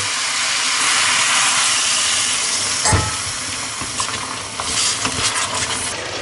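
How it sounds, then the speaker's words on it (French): Homemade sauce poured over beef in a hot pan for beef in Chinese-style black bean sauce gives a loud steamy hiss and sizzle, with a sharp burst partway through and then bubbling simmer with stirring clatter. "Et on ajoute notre sauce que l'on a fait tout à l'heure."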